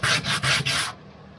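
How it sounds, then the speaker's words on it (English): Four quick, close scraping strokes of 60-grit sandpaper rubbed by hand over a wooden swimbait lure, then silence. "So we're going to sand some of these issues out."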